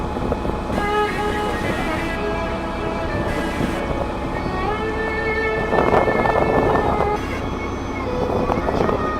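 A river cruise boat on the Hooghly in Kolkata moves along with a steady engine drone, water wash and wind buffeting the microphone, forming a continuous broadband rumble with a few brief louder surges.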